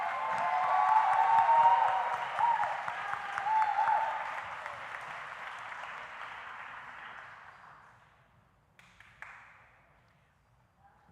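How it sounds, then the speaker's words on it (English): A crowd at a graduation ceremony applauds loudly and steadily for several seconds, then the clapping thins out and fades into near silence with a few scattered claps. "Please give them another round of applause."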